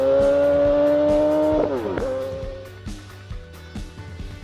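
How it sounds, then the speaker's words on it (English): A Midual Type 1 twin-cylinder motorcycle blasts its exhaust note loudly, a sustained rising drone that breaks into a quick shift, then settles into a rumbling, lumpy idle-like pulse, with no talking. "Blasting out of France to an explosion of twin-cylinder exhaust note is the Medual Type I."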